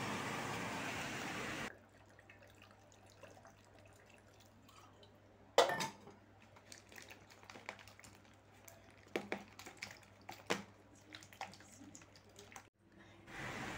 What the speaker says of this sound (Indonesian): kita cuci sampai bersih kita cuci dengan air hangat